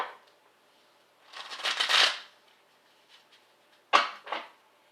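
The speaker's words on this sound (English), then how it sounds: "Mix these cards up, give them a good shuffle." Tarot cards being shuffled close up: a longer riffling burst, a pause, then two quick shorter shuffles.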